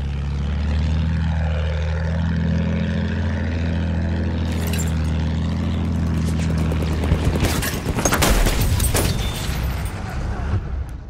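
A propeller warplane in the video game Battlefield 1 drones steadily with a low engine hum, then bursts of gunfire and explosions crackle loudly over it toward the end.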